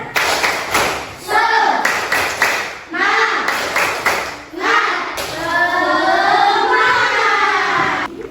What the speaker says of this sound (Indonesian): ayo kita tepuk semangat terlebih dahulu ya